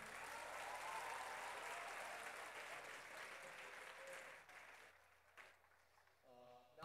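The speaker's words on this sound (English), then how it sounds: "We have another round of applause for the MVP team." Applause from an audience at a Teachers' Day 2023 event for the MVP team, a steady wash of clapping that fades out toward the end, with a voice briefly heard.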